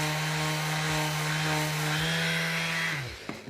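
A power sander grinds down the seam on a Scout Trooper helmet piece. It gives a loud, steady, droning whine for about three seconds, then winds down and stops, with a faint knock afterward.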